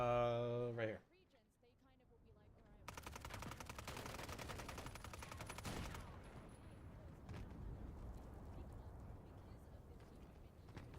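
Gunfire in a video game match, with a rapid stream of automatic shots that runs for several seconds, followed by scattered, fainter shots under a steady background of game noise.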